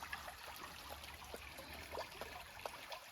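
A river flows gently under a stone bridge in Cornish countryside woodland, its soft trickle and babble faint and distant, with small splashy ripples scattered throughout.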